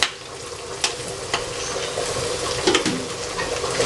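A spoon scrapes and stirs ginger and garlic paste into browned onions frying in a pan with salt, for a chicken curry with tomato. Steady close sizzling runs throughout, broken by several sharp scraping knocks and clatters, with no talking.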